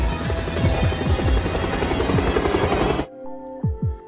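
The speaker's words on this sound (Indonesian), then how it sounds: "helikopter memblok jalannya" A helicopter's rotor chops loudly and steadily for about three seconds, then cuts off abruptly to a quieter scene with a couple of brief sounds.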